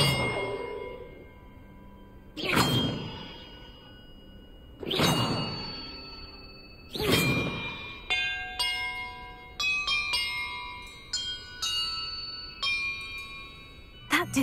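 Bells are struck one after another in the Hogwarts Legacy video game: four loud, ringing clangs spaced about two seconds apart with long decaying tails, then a quicker run of bright chiming tones.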